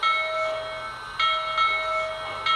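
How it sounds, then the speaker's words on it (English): A Lionel Legacy Blue Comet model locomotive's electronic bell rings in a steady repeating clang, clear and close, alone without talk. "you have an option on the Lionel legacy remote to actually have the bell ring continuously"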